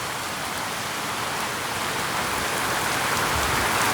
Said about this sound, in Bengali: কি জোরে বৃষ্টি হচ্ছে, দেখুন কি জোরে হচ্ছে